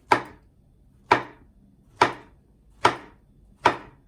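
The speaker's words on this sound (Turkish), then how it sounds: "Evet şimdi muzlarımızı yuvarlak yuvarlak ince ince doğruyoruz." A knife slices bananas into thin rounds on a board, five cuts in a slow, even rhythm, each crisp chop close and clear against quiet.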